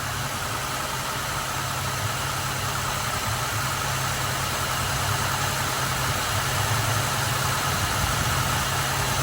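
A 2008 Ford Escape V6 engine idles smoothly and steadily at close range, a continuous even hum with a faint vibration, no voices present.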